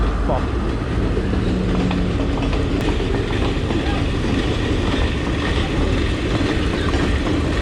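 Steady rumbling rush of a train rolling past a closed level-crossing gate nearby in Sri Lanka, near Ambewela, continuous and loud throughout, with faint rhythmic clatter and some voices underneath.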